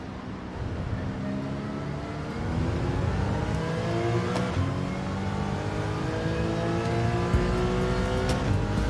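A Ferrari race car in Gran Turismo 7 closes in from behind, its engine whine steady and rising in pitch through upshifts, loud and near under the player's own car noise.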